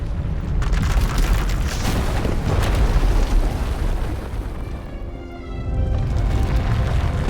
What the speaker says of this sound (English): When it erupts, the entire asylum will be destroyed.